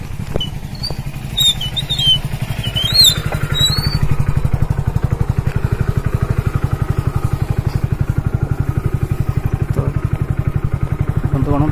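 A motorcycle rides beneath a railway bridge with a train running overhead, its engine thudding in a fast, steady pulse up close while faint high squeals and clatter ring out early on.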